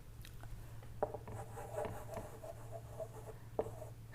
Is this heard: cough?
no